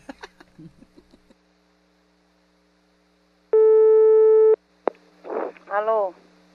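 Telephone line tone sounding as a call is placed, a steady loud tone holding for about a second after some faint background speech, followed by a click and a person starting to talk.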